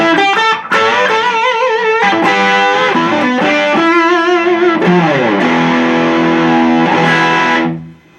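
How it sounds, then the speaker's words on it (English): Electric guitar with a reverb effect and some distortion plays a continuous run of sustained notes and shifting chords, loud and close. The final chord rings out and decays in a reverberant tail. "Reverb."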